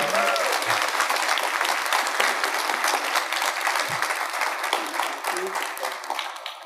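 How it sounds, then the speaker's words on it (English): Convention audience applauding author Terry Brooks at a Shannara panel at Awesome Con 2023, a sustained dense wash of clapping from a large crowd throughout, with a few faint voices mixed in. "Let's give him a big round of applause for being here."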